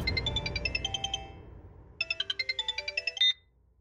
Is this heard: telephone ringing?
yes